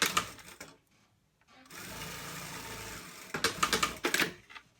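A sewing machine stitches a fleece hoodie seam in short bursts, a close rapid mechanical whir and clatter that starts, pauses, and resumes in uneven runs.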